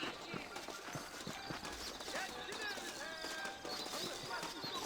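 Steady clip-clop of saddled horse hooves at a walking pace in the video game Red Dead Redemption, with chirping birds and ambient outdoor sounds in the background.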